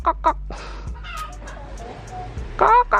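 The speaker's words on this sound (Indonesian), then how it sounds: "Itu petok-petok itu mau ngendok itu." A hen about to lay an egg clucks in short, loud bursts at the start and end, with quieter clucking and faint background talk in between.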